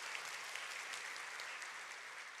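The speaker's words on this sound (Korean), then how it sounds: "하나님께 다시 한번 감사의 박수를 올려드립니다" Church congregation applauding during a Korean Sunday worship service, steady dense clapping that sounds distant and faint throughout.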